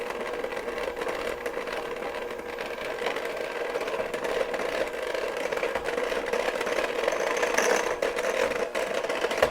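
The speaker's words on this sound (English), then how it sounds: "Now we'll add in our powdered sugar. And beat that in with a mixer." Electric hand mixer beating powdered sugar into thickened melted chocolate for a chocolate strawberry cake, a steady close whirring motor drone with a faint rattle running throughout, no talking.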